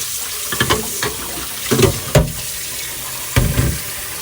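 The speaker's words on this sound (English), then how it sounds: "all the water is rinsing" Tap water running into a kitchen sink while a whole chicken is rinsed, a steady splashing broken by several louder bursts as the water is disturbed; no talking.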